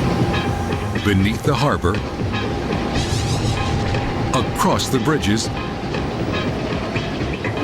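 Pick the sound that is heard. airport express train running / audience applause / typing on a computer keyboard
airport express train running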